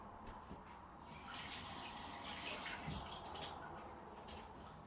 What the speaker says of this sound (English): But before this, I will wash my hands.